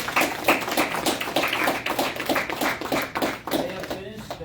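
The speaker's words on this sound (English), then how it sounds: "big round of applause for both of our candidates," An audience applauds the candidates at a term-limits debate, giving a dense, sustained round of close clapping that thins out toward the end, with a voice heard over it.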